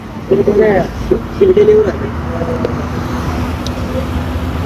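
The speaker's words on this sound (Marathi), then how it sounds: "तर हा टोल नाका आहे बघू शकता इथे" Road traffic rumbles at a toll plaza, a steady low drone of passing vehicles heard from nearby, while someone talks loudly over it at the start.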